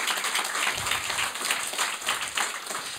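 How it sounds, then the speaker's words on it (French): A studio audience applauding on a talk show, dense continuous clapping at moderate level with slight swells, nobody talking over it. "Et on peut les applaudir, oui."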